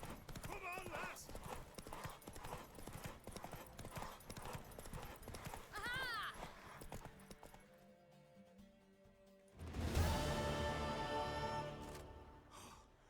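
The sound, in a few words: horse galloping in video game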